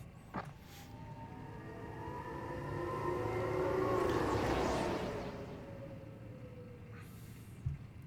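A tram in the game Mass Effect Andromeda hums and whooshes past, a smooth rising and falling motorized drone that swells toward the middle and fades, with a couple of soft mechanical clunks at the start and end.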